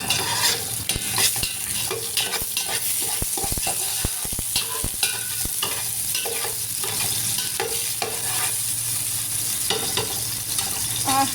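Onions frying in oil in a pan, a steady bright sizzle with frequent close stirring scrapes and clicks of the utensil against the pan, continuous and fairly loud throughout.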